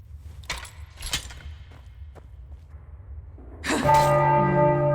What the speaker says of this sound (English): So, what's the deal with those bells?